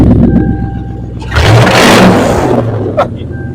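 A first car's engine revs hard and loud in a single surge, roaring up then settling back to a rough idle, with a brief sharp blip near the end.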